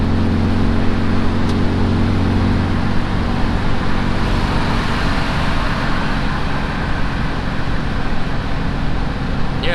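An air-cooled VW engine runs warm and smooth, a loud, steady low rumble with constant mechanical chatter heard from inside the car, with no pauses or changes in pace.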